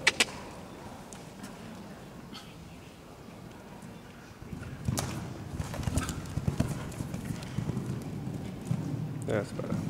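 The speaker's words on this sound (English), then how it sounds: "Come on, Nabil, ride the horse forward." Horse hooves clopping at a steady walking rhythm, growing louder midway, with a voice speaking over them now and then.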